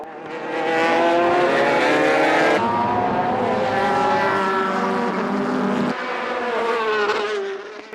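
Race cars at the 1998 JGTC race, including the Castrol Mugen NSX, screaming past at high revs with rising and falling engine pitch, loud and sustained with abrupt shifts as cars pass.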